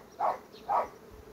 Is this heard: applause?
no